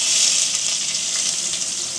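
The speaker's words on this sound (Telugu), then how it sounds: "ఇంకా తాలింపు పెట్టేస్తున్నాను అన్నమాట." Spices for a tempering crackle and sizzle in hot oil on the stove, a continuous close frying hiss without any voices.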